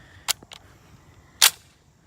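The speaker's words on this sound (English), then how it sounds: "let us load up some 30-06" Two sharp metallic clicks and a smaller snap sound as 30-06 ammunition is loaded into an H&R M1 Garand rifle, close and distinct against near silence.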